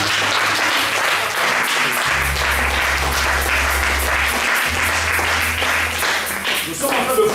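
A church congregation applauds and cheers, dense sustained clapping with a steady low organ or keyboard tone underneath, loud and continuous throughout.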